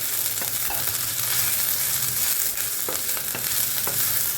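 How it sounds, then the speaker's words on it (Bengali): Sliced onion fries in a pan for a chicken mince dish, giving a steady close sizzle with faint stirring taps throughout. "তো এই পেঁয়াজটাকে একটুখানি ভেজে নেবো আগে"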